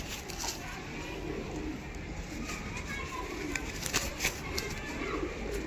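Pigeons cooing at a pigeon sale, repeated soft low coos recurring through the background while someone talks nearby.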